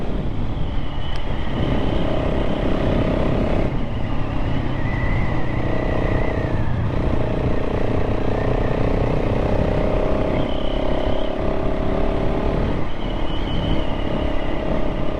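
A KTM 690 SMC-R motorcycle with a changed exhaust pipe and fuel tuning runs during a test ride, its engine droning steadily with wind noise and shifting pitch over the ride.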